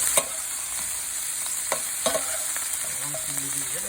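Chicken and cauliflower pieces fry in a pan with a steady close sizzle, while a spoon stirs and scrapes now and then, with a few soft knocks near the end and no voices.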